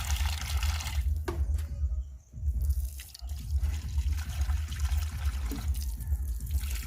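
Water poured out for household animals, a continuous close splashing and trickling stream with a few brief dips, no talking.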